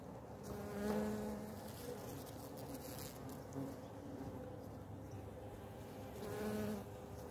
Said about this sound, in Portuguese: Tem muita abelha